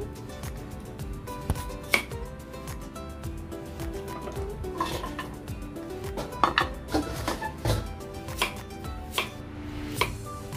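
A knife slices carrots on a cutting board in a brisk, irregular series of close chops and taps, with a few sharper knocks throughout and no speech.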